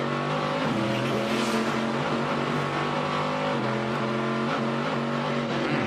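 Corvette C6.R race cars run through a left-hand corner on a street circuit in Baltimore, their engines a loud, continuous roar that steps in pitch as they shift gears, with a hint of tire noise.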